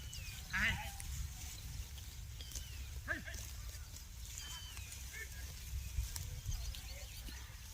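Sheep at a farm bleating in short, intermittent calls over a constant low rumble, with people talking nearby.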